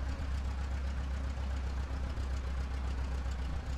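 A Bulldog autogyro engine running steadily before takeoff, a loud, constant low drone with a throbbing mechanical rumble that holds at the same level throughout, and no voices.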